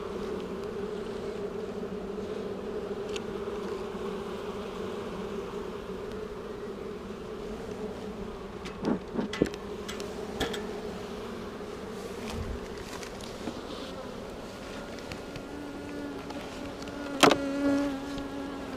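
Honey bees drone steadily and close by throughout a spring beehive inspection, a continuous buzzing hum with a few soft knocks and handling sounds mixed in and a louder thump near the end.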